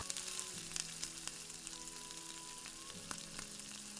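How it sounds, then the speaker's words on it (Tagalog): Garlic sautés in cooking oil in a pan for spicy adobong liempo, giving a faint, steady sizzle with a few light clicks of stirring. "Gamit ang same na cooking oil, isutay na po natin ang ating bawang"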